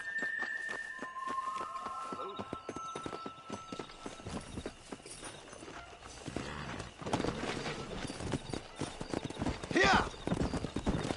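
Horse hooves clip-clopping in Red Dead Redemption, steady rhythmic footfalls close by with a brief whinny, layered under game music and character voices.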